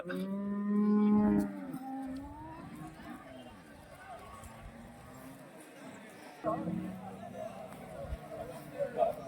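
Native cattle mooing at a busy livestock market in Bagalur near Hosur, a long loud low moo up close followed by quieter bellows amid crowd chatter and market bustle.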